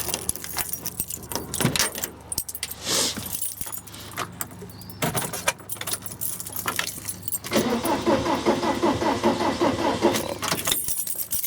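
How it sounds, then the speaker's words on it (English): Keys jangle in the ignition of a VW Camper with a swapped TDI engine, followed by the starter motor cranking the engine over in a steady churning rhythm without it catching, close and moderately loud. "we have it cranking over on the key."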